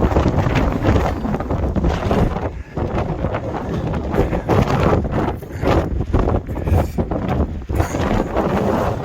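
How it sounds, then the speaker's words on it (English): Strong gusting wind on an Appalachian Trail mountain top in Maine roars and buffets the microphone continuously, loud and close, with no voices. "It's extremely windy up here right now."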